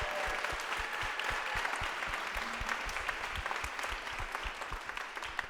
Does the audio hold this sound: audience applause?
yes